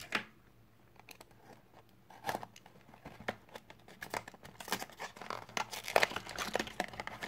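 Crinkling and tearing of a Star Wars Sweet Box confectionery package being opened by hand, with uneven bursts of crumpling plastic and paper that grow busier toward the end, close up and without talk.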